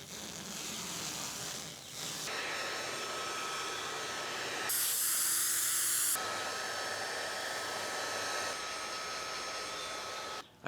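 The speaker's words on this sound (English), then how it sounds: "bought a heat gun." A heat gun blows hot air onto car seat upholstery during reupholstering, giving a steady close whooshing roar that changes tone a few times as it shifts, with no talking.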